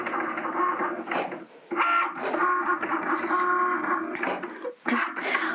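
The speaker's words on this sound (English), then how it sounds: "and my machine's going to start cutting" A vinyl cutting machine works through a craft design, its motor whirring and buzzing in steady, close runs broken by brief pauses and changes in pitch as the carriage shifts direction.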